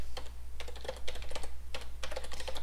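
Keys clatter on a computer keyboard in quick, uneven bursts of typing, close and clear, with brief pauses between runs while HTML styling code is entered; no voices.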